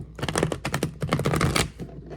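Tarot cards are shuffled by hand in a quick run of soft riffling slaps and flutters, close and fairly quiet, lasting about two seconds.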